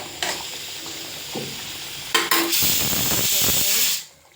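Pepper kuzhambu (milagu kuzhambu) bubbling hard in a pan, a steady close sizzling hiss with spluttering bursts that swell midway before cutting off near the end.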